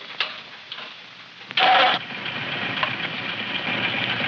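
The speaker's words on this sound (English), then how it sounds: "Would you believe that was our tractor?" A smooth, steady engine idles with a soft, even hum, broken by a brief louder burst partway through before settling back to a quiet running drone.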